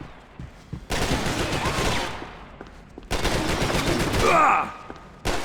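Bursts of automatic gunfire from the video game Max Payne 3 come in two dense volleys separated by a short lull, loud and close, with a brief high ringing tail near the end.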